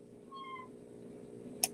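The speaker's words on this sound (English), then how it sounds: "I heard the cat in the background." A single soft, drawn-out cat meow sounds faintly in the background of a quiet room, followed a second later by one brief sharp click.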